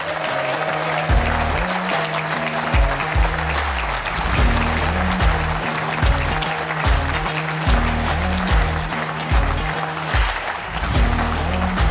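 Sustained applause from an indoor bowls audience honouring the 2022 Potters Resorts Under-25s world champion, steady and dense across the whole stretch, with music-like tones running beneath it.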